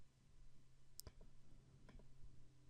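A computer mouse clicks a couple of times, sharp, brief and faint ticks against a quiet room hum with no talk.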